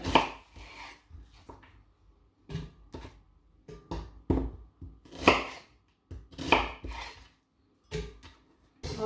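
Knife chopping ingredients for okra stew on a cutting board, sounding as irregular bursts of close, crisp chops separated by brief pauses.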